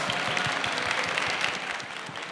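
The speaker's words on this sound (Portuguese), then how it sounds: "Uma salva de palmas." Sustained applause from an audience at an education summit in Rio, dense clapping at an even level that eases slightly near the end.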